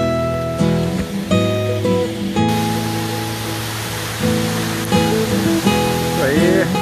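The tall Cachoeira Sete Quedas waterfall in São Paulo roars as a loud, constant broadband rush, with tonal sounds layered over the steady water noise.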